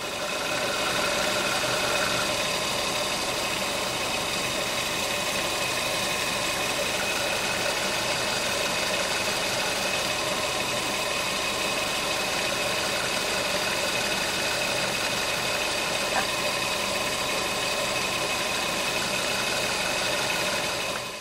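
A Ford Duratec HE engine idles steadily, heard close up through a screwdriver held against the auxiliary belt tensioner, giving a continuous mechanical drone with a faint rhythmic ticking and whirring throughout.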